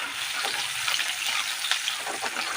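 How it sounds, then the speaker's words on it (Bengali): Chopped onions fry and get stirred in hot oil in a pan while making a spicy katla fish curry, giving a steady close sizzle with soft scraping stir strokes throughout. "পেঁয়াজগুলোও কিছুক্ষণ এভাবে নাড়াচাড়া দিয়ে লাল করে ভাজা করে নেব।"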